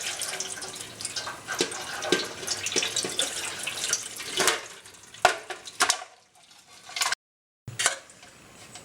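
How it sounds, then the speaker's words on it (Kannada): Water pours and splashes steadily as it is drained from pork cooked in a pressure cooker, then trickles off and stops, leaving a few faint clinks. "ಈಗ ಅದನ್ನು ನೀರು ಬಗಿಸ್ಕೋಬೇಕು"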